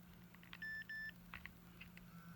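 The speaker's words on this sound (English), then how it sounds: "And then you'll hear that beeping noise, that's the tone." An Educator ET-300 mini e-collar remote sounds its tone beep: two short, clear electronic beeps in quick succession, followed by faint clicks and handling noise, quiet and close with no talking.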